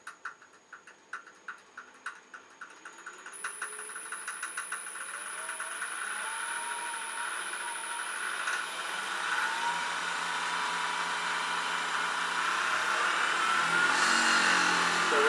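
Variable-speed woodturning lathe spinning a banksia pod, starting with rhythmic clunking pulses that blend into a rising motor whine as the speed climbs toward about 2,000 rpm, then a steady loud hum, no talk.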